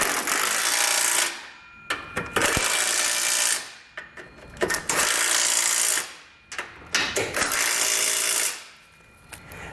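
A power tool snugs down base plate mounting bolts on a 2022 Buick Encore GX during a Blue Ox base plate install, running in four loud whirring bursts separated by brief pauses and light clinks.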